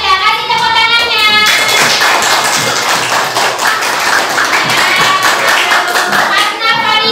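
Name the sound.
audience clapping hands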